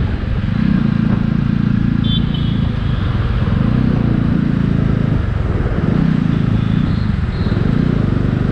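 A Jawa 42 motorcycle on a test ride in Kochi pulls hard as the engine accelerates, a loud steady drone that rises and dips in repeated surges through the gears, with wind rush and no talk over it.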